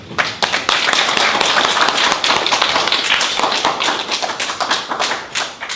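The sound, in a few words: audience applause welcoming a lecturer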